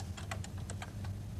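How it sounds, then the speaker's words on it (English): A command being typed on a home microcomputer keyboard, a quick run of about eight close, crisp key clicks in an uneven rhythm over a low background hum, with no speech. "we do this by typing star Prestel"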